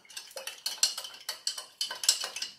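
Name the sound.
stirring a lime ginger drink in a jug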